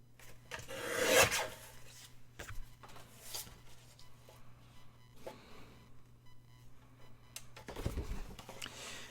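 Stamps for a travel journal trimmed by hand, with soft rasping cut strokes clustered near the start and again near the end, scattered small taps and handling noises between, close and quiet with no talk.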